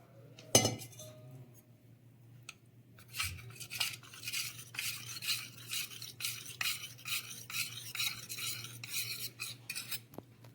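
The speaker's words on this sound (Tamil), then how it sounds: "பால் கொஞ்சமாக ஊற்றி கஸ்டர்ட் பவுடரில் நல்லா கரைச்சி வச்சுக்கிடுவோம்." A spoon stirs custard powder into a little milk in a small container, giving a quiet, rapid run of clinking and scraping strokes after an initial knock and a brief pause.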